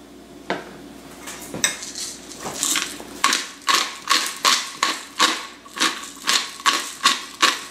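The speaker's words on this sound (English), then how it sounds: "Stir that all around." A spoon scrapes and clinks against a bowl as ginger powder and other spices are stirred together, with a steady rhythmic series of sharp close knocks, about twice per second, and no talk.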